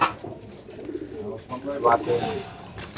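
A racing pigeon cooing softly at close range in a short burst, with low murmuring voices in the background.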